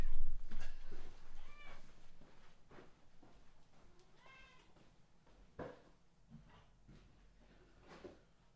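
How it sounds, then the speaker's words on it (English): A cat meows several times in short, separate cries, with some soft rustling and handling noises in between. The cries are close and moderately loud, and a few quieter meows trail off toward the end. "I'm going to feed this cat."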